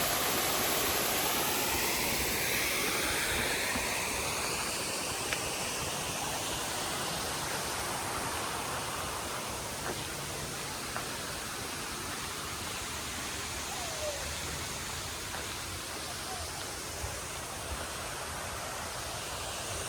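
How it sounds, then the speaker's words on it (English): Seminole Falls at Rainbow Springs, man-made waterfalls built in 1937, pour in a steady broadband rush that holds evenly throughout, a constant hiss of falling water with no voices. "These are the Seminole Falls. These waterfalls are remnants of Rainbow Springs attraction era."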